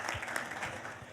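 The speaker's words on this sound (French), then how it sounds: "Est-ce qu'on peut acclamer pour le MC de la République?" Audience applause for an MC at a public event, a dense steady wash of many hands clapping throughout, with faint voices mixed in the crowd.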